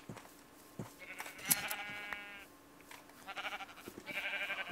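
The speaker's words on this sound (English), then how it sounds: "There's so many sheep." Sheep in a video game bleat in several drawn-out, wavering calls of moderate loudness, overlapping one another against a steady background hiss.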